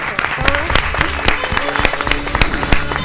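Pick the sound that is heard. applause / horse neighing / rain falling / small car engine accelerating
applause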